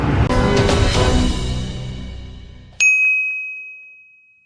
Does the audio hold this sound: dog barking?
no